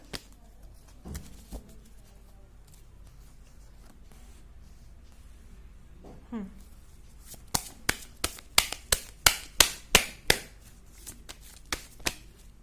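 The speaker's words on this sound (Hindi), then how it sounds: "कार्ड आप ही लोगों के सामने शफल कर रही हूँ गाइस।" A deck of tarot cards is handled quietly at first, then riffled in a rapid burst of crisp, close flicking snaps, with a few more shuffles after a brief pause.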